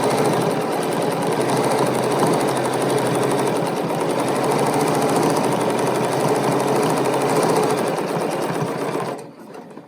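A Bernina sewing machine runs steadily at speed for about nine seconds, a loud continuous buzzing whir with rapid needle clatter, then stops abruptly near the end.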